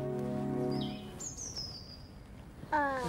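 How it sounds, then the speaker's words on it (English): Garden birds chirp at a feeder, giving a few thin whistled calls and short sliding notes, fairly clear and close, with a tonal sound at the start and a bright tonal burst near the end. "Feeding the garden birds."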